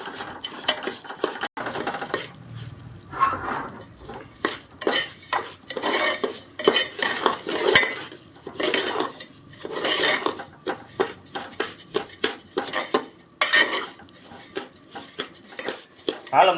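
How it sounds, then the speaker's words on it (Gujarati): Cracked wheat for fada lapsi tipped into ghee in a pan and stirred, with repeated scraping of a spoon against the metal, gentle clinks and a soft sizzle, close by and in an uneven rhythm. "આપણે આ ફાડા લાપસીને આ ઘીની અંદર નાખી દઈ અને અલગ નાખીએ"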